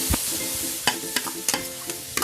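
Potatoes sautéed in a pan for lumpiang sariwa filling: a soft steady sizzle broken by several sharp scraping stirs, close and clear, with no talk.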